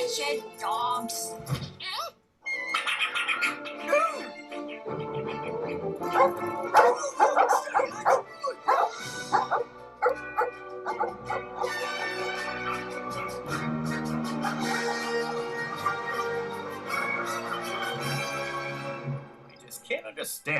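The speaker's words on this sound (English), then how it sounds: "Wretched dogs." Several dogs bark, yip and whimper in irregular bursts, fairly close, mixed with a busy, tonal background and occasional voices.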